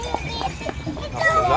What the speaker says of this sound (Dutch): Wow, dat is een mooie paard.